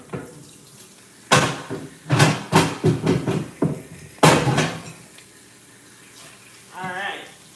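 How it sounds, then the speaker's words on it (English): Noodle water poured into a kitchen sink, splashing in uneven bursts and gushes with a brief voice near the end. "I'm just gonna let that strain off for a second and then pour it into the sink"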